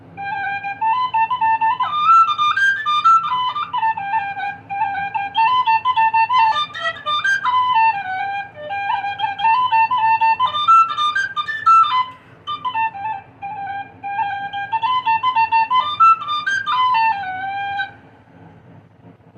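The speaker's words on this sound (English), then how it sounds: "ever since I started playing Irish tin whistle" An Irish tin whistle plays a lively melody solo, bright and clear, in phrases separated by short pauses, with a faint low hum underneath.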